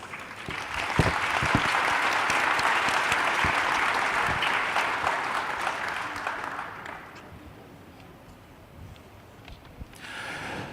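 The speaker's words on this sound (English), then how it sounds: "If you may now join me in giving our delegates and dignitaries a big round of applause" Applause from the audience at the UN Public Service Forum ministerial round table for delegates and dignitaries, a full clatter of many hands that holds for about seven seconds, then thins and fades before a brief final swell.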